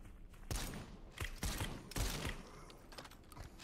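A shotgun fires in the zombie shooter World of the Dead, with several sharp blasts about half a second apart up close, then fainter clicks and rattles.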